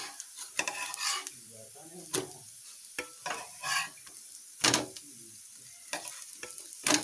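Semiya (vermicelli) breakfast fries in a pan over a medium flame, with crisp sizzling broken by repeated sharp scrapes and clinks of a utensil against the pan, close and fairly quiet, with no talking.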